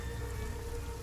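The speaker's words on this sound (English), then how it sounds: "there's a lot of hail, a lot of noise" A hailstorm sound effect gives a dense, steady patter of stones striking hard surfaces, constant and fairly faint with no talking.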